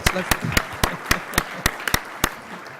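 Audience applause at a business gathering comes through as a series of distinct, evenly spaced handclaps, crisp and fairly close, with a voice talking underneath.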